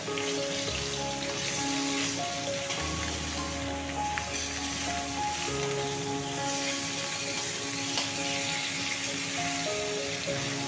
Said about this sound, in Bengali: প্রথমে মাছগুলো ভেজেছি